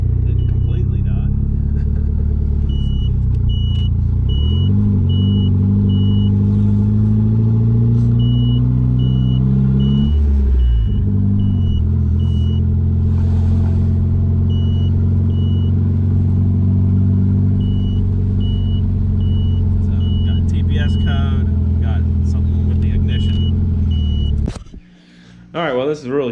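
A Chrysler Conquest engine idles while running lean, a steady low rumble that holds loud and close for most of the stretch before cutting off abruptly near the end, with people talking over it.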